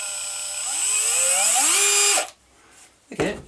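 A variable-speed cordless drill spins up to full speed with a rising, high-pitched whine, holds it briefly, then winds down into near silence before a short second burst of motor noise.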